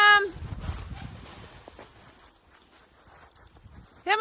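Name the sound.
horses moving while being fed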